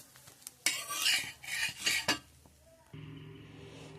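A metal spatula scrapes a ghee roast dosa off a hot tawa with several sharp scraping strokes, followed by a quieter lingering hum.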